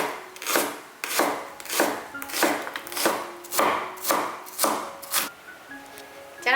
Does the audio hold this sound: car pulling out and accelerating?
no